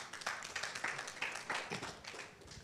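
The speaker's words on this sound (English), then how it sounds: "So a round of applause for him." Scattered audience clapping at an international photo club conference, a quiet patter of individual claps with no voices.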